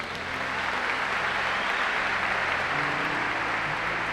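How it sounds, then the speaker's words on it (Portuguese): A church congregation breaks into sustained applause, a steady wash of many hands clapping that fills the hall at an even level from start to finish, with no talking. "Uma salva de palmas para as mães."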